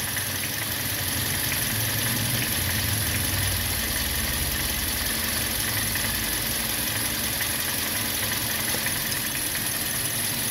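Toyota Vios car engine idling with a noticeable vibration, a steady close droning rumble that holds at an even level throughout with no talking.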